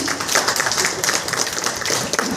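Applause from the audience at a Toastmasters club demo meeting in Pune, a steady, dense patter of many hands clapping throughout the short stretch with no talk over it.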